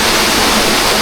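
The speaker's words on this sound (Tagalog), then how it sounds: "may ilog din pala dito guys" A river on a mountain hiking trail rushes steadily, a loud, close, continuous hiss of flowing water lasting about a second.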